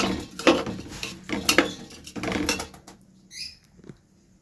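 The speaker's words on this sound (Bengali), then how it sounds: "চাল ডালটা দিয়ে দিয়েছি, দিয়ে ভালো করে একটু নাড়িয়ে নেবো" Rice and lentils being stirred in a pressure cooker pot for khichuri: a close, loud run of scraping, rattling strokes with steady rhythm, easing off toward the end.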